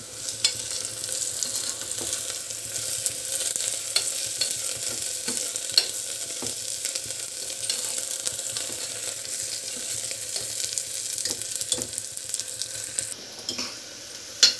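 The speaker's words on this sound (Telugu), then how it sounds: "ఉల్లిపాయలు అలాగే కొత్తిమీర చక్కగా వేగిపోయింది" Onions and coriander fry in a pan with a continuous, even sizzle, and occasional spatula scrapes and stirring knocks sound close up; no one speaks.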